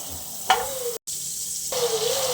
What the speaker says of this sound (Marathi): आता आपण पॅनमध्ये फोडणी घालून घेऊया तर इथे मी बटर टाकून घेते